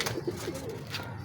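A fancier's pet pigeon coos in a few soft, low, rounded calls near at hand, over a light background hiss.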